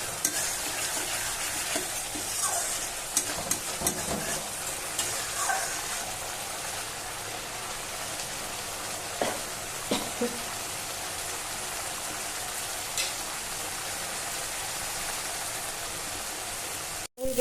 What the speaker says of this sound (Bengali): মশলা থেকে তেল বেরিয়ে যাচ্ছে। মশলাটা আর একটু কষবে।